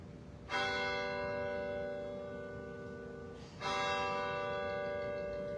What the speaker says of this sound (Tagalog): pinatunog din ng Manila Cathedral ang kampana sa loob ng 13 minuto bilang pag-alala sa mga taong pamumuno sa simbahan ni Papa Francisco